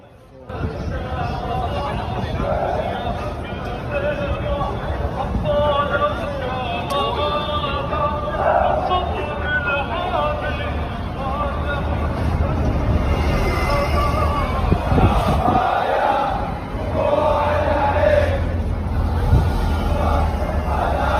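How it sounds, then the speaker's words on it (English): A dense crowd gathered outside the GPO in Dublin, a loud, steady roar of many voices and shouting that fills the whole stretch, with some louder swells toward the end. "Just a crowd of Syrian rebels outside the GPO in Dublin."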